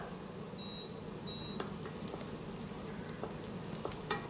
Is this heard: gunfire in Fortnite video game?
no